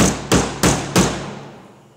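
A small hammer drives nails into the top bar of a wooden beehive frame, striking four sharp, evenly spaced blows about a third of a second apart. Each hit rings close and loud before fading.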